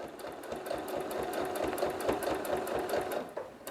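A sewing machine runs steadily, its rapid stitching rhythm continuous and close as fabric is pushed along a straight quilting ruler, with no talk over it.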